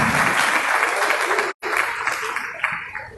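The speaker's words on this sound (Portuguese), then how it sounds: "Vamos aplaudir a vida do Rogério também, né?" A church congregation applauds during a worship service, a dense, steady wash of clapping that cuts out briefly midway and then resumes, gradually thinning toward the end.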